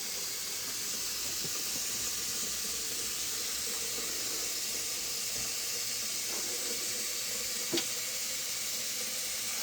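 Water runs into a cooking pot as it fills, a steady close hiss of tap flow holding evenly throughout with one small clink near the end and no voices.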